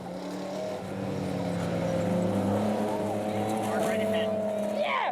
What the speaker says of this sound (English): The kids love that big, noisy Mustang.